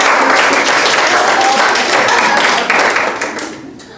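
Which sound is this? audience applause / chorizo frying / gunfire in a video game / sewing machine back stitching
audience applause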